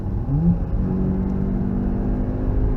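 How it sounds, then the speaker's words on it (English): A car accelerates at full power on the wet Nordschleife at the Nürburgring, heard onboard as a steady, loud engine drone with low rumble and road noise throughout. "turn in, accelerate again, full power."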